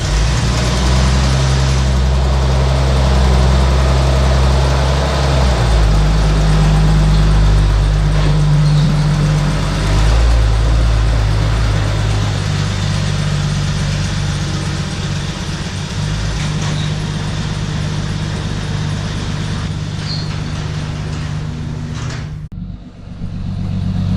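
The engine of a Jeep Cherokee XJ rumbles steadily and loudly as the vehicle pulls away and drives off, a continuous close drone with shifting low tones and no talking.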